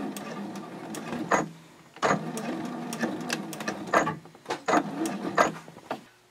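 A sewing machine stitches a fold-flat fabric basket, going over a previous line and backstitching in several short, loud bursts separated by brief pauses, close by and without speech.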